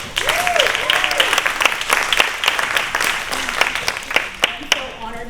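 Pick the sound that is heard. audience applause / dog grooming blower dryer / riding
audience applause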